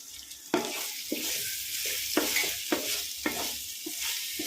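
Tomatoes added to a hot pan of masala for mutton biryani, sizzling and frying steadily while a spoon stirs and scrapes several times, close and alone with no talk.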